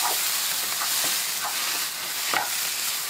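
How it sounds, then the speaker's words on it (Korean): Onions sizzle steadily in a pan as they are stir-fried and slowly browned for Japanese curry, with a loud, close frying hiss broken by occasional spatula strokes. "일본식 카레는 양파를 오래 볶아야 하는데 최소 30분은 볶아야 갈색으로"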